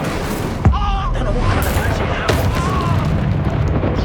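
An Incendio fire spell cast in the Hogwarts Legacy video game, a loud whooshing burst of flame over dense combat rumble with booms, continuous and close, with a brief voice over the effects.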